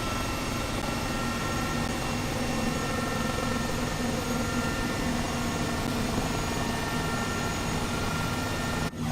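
An Airbus H135 helicopter engine in Microsoft Flight Simulator spools up to full power, a loud, steady turbine whine and rotor roar that holds without a break and cuts off sharply at the end.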